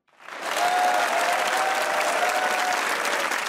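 A Hasna Mana Hai studio audience bursts into steady, loud applause that swells quickly and holds at a full, even level throughout.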